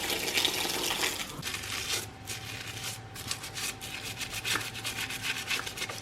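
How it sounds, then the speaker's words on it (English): A KTM 350 EXC dirt bike is scrubbed clean in a garage, giving continuous close brushing and rubbing with wet, gritty swishes. The strokes come in uneven bursts at a fairly loud level, with no speech. "This is the way we scrub our bike."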